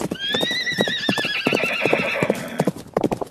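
A horse gives a loud, quavering neigh over a steady clatter of hoofbeats, the whinny rising and trailing off while the clip-clop carries on close by.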